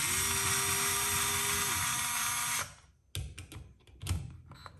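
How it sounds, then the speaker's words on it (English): A Craftsman 4V cordless screwdriver loosening screws gives a close, steady high whine for about two and a half seconds, then stops, followed by a few short clicks and handling noises. "Let's begin with loosening these and see how much faster it is."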